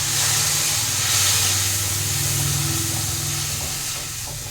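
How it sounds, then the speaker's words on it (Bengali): Poppy seeds fry lightly in a pan on a gas stove with a steady, close hiss and sizzle that stays even throughout and eases off slightly near the end. "পোস্তটা হালকা কষে নেব"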